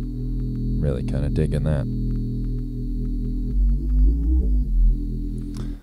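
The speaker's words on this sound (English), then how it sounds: "slightly out of tune but still playable synth here that you can mess around with. Some nice low bass too." Sampled Casio CT-101 keyboard synth, slightly out of tune, playing deep low bass notes under a steady electric hum, with a short burst of higher notes early on while someone talks briefly over it.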